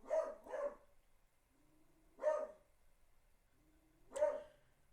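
A dog barks three times, with a quick double bark first and then two single barks spaced about two seconds apart, each one near and moderately loud over a quiet background.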